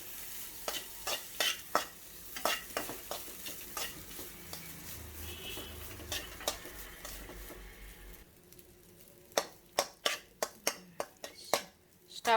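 Tempered rice with lemon juice stirred and mixed in a frying pan, with repeated sharp spoon scrapes and taps against the metal over a soft sizzle, with a steady rhythm that quickens near the end.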